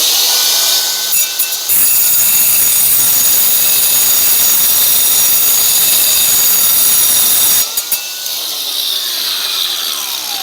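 A 4.5-inch angle grinder cuts through a brick, a loud, piercing high-pitched grinding shriek lasting about six seconds, set between quieter stretches of the motor spinning freely.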